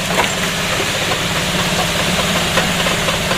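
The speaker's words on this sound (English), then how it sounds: "But I fire it up and take it for a ride." A golf cart's engine runs steadily at close range, a continuous low idling rumble with a faint knocking texture and no voices over it.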